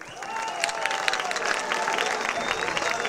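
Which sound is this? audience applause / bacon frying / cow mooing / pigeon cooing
audience applause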